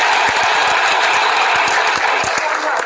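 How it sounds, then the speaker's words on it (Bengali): An audience clapping loudly together, a dense, steady wash of many hands with sharp individual claps standing out, sustained at full volume throughout at a large gathering. "আমাদের উচ্ছ্বাসের জন্য একটা জোরে হাততালি দিই"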